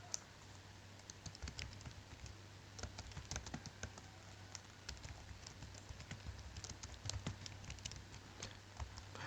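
HTML code being typed on a computer keyboard, a quiet run of rapid, uneven key clicks over a constant low hum, with no talk.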